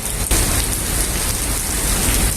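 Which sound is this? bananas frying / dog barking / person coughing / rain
rain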